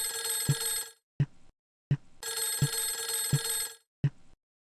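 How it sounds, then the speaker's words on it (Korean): A telephone rings in loud, close bursts of bright bell-like trilling, pausing and starting again in a repeating pattern with short clicks between. "철호는 급히 전화기를 들고 진수에게 전화를 겁니다."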